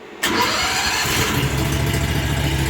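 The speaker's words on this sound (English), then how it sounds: "So simple starting it, pull the choke, turn the key." A Chinese rock crusher's engine, started with the choke pulled and the key turned, catches abruptly and settles straight into a loud, steady idle nearby.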